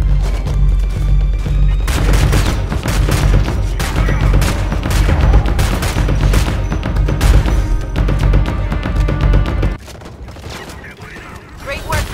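Combat in the video game Homefront: The Revolution rages as dense, loud, continuous gunfire with booming blasts, including a grenade explosion, before easing off abruptly near the end.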